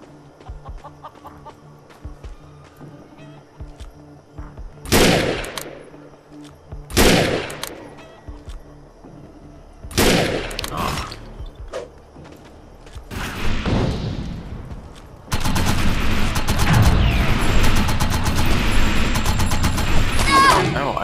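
Rifle fire in the video game Defiance, several sharp loud shots spaced a couple of seconds apart, then a dense continuous burst of combat noise with voices mixed in.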